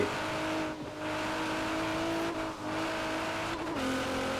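A racing car's engine in Forza Horizon 4 holds a steady high drone, with brief dips as gears shift and the tires work, close and continuous with no talking.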